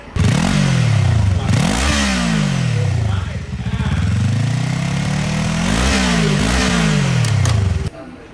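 A Kawasaki Eliminator motorcycle engine revs repeatedly up close, rising and falling in throaty bursts with brief idling between pulls.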